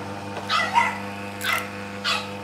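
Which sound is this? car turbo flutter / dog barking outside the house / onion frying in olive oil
dog barking outside the house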